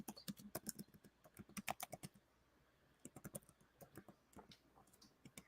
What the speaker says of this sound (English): I'm typing too fast, guys.